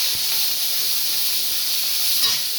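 Chopped onions drop into hot oil already holding cumin and chana dal, cooking for a tomato chutney; a steady, close, even sizzle runs throughout with no talking.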